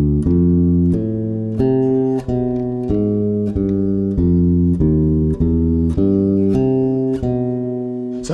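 A bebop lick played on bass at a slow tempo, with a steady run of clear, plucked single notes, loud and close, with no talking.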